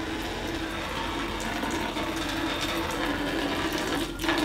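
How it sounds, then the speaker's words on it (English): Water flows steadily from a primed pump, a continuous rushing gush that stays loud and even throughout, with no talking. "look at that beautiful water flowing."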